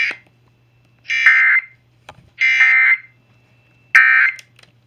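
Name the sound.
EAS emergency alert test tone on TV/radio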